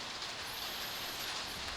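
Steady rain pours down outdoors near a motorcycle being restored, a dense, even hiss that fills the whole moment without pause and with no talking.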